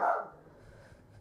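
A pet dog gives a single short bark at the start, close by and fairly loud, followed by quiet room tone.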